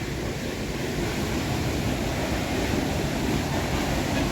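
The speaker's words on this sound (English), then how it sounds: "I will not be able to talk much because of the sound of the water." Rushing water at Chepkiit waterfall, a dense, steady broadband roar with no breaks, loud and close, with nobody talking.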